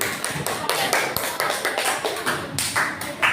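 A classroom group claps in applause for a student team from Thailand, a steady run of quick, fairly loud hand claps lasting a few seconds.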